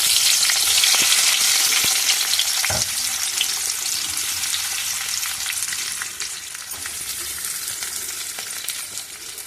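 Curry leaves, coriander and onions dropped into hot oil for mint rice, a loud crackling sizzle that starts strong and gradually settles, with a brief clink of a utensil partway through.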